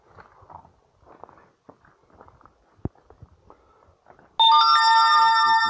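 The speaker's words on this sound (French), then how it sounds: "Ah, le portable qui sonne." A mobile phone rings loudly and steadily in an abandoned house in the Oise, a bright electronic ringtone that starts abruptly after quiet footsteps and faint rustling.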